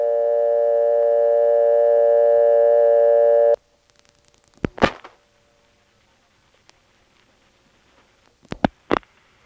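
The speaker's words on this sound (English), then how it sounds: "when I dial the 1, that click that we heard back at the beginning when we dialed 0 is heard" A 1977 step-by-step telephone exchange in Belhaven, North Carolina. A steady humming line tone cuts off, then a sharp single click sounds as 1 is dialed. A few louder paired clicks follow after a quiet pause.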